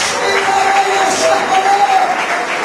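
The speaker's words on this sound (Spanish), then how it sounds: "Si lo quieres aplaudir, apláudalo." Church congregation applauding during an evangelical Spanish-language service, a steady wash of clapping that runs the whole time, with a voice or sustained tone carrying over it.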